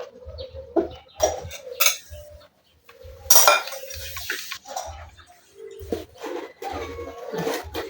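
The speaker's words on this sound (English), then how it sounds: "Stir." Cake batter with eggs stirred in a bowl: a spoon clinks and scrapes against the sides in irregular bursts, with short rhythmic knocks and brief pauses, close and moderately loud.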